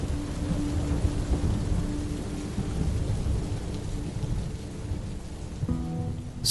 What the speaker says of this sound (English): Soon the skies open with heavy rain.